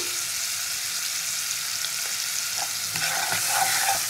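Onion paste frying in oil for a katla fish masala curry, with salt and sugar added: a constant close sizzle and hiss, with spatula scrapes and stirring getting busier toward the end.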